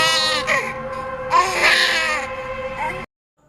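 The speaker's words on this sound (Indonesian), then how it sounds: "mendengar suara jeritan bayi yang kesakitan" An infant wails in pain with long, strained, rising cries broken by brief gasps, loud and close, then cuts off abruptly into silence.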